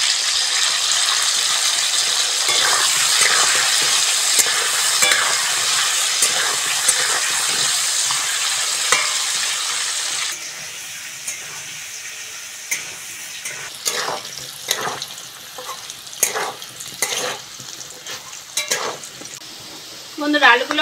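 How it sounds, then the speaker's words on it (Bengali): Potatoes frying in hot oil in a home kitchen give a loud continuous sizzle that later quiets, broken by clinks and scrapes of stirring. "আলুটা ভালো করে ভেজে নেব।"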